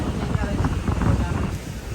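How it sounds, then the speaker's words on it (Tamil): Wind gusting steadily near the coast by Katunayake Airport in Sri Lanka, a continuous low rumbling buffet against the microphone with no clear breaks. "பாருங்க, காற்று சும்மா கதைக்குது"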